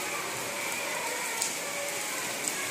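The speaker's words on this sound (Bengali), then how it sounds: "বৃষ্টি দেখো কেমন" The season's first monsoon rain falls as a steady, even hiss at moderate distance, continuous and unbroken, with no voices.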